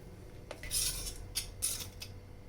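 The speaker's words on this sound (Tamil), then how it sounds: "இப்போ இதை ஒரு பிளேட்டுக்கு கொட்டி நம்ம நல்லா மிக்ஸ் பண்ணி விட்டுட்டு லட்டு பிடிச்சிக்கலாம்" Ground nut mixture emptied from a mixer jar onto a plate, several scraping, clinking knocks of metal against the jar and plate with short gaps between them, no voices.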